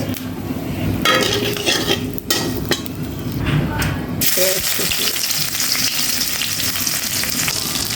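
Cumin seeds and two or three dried chilies tempering in hot mustard oil, a steady close sizzle and crackle with clinks of a metal spatula against the pan, under brief quiet talk.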